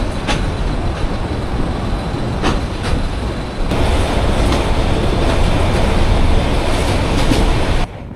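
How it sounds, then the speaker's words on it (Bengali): Meghna Express, an intercity meter-gauge train, pulling out of Chandpur, with a loud, steady rolling rumble of wheels on rails and brief sharp knocks, growing heavier midway. "চাঁদপুর থেকেও কিন্তু বেশ লম্বা হুইসেল দিয়ে আবারও ট্রেন ছেড়ে দিল"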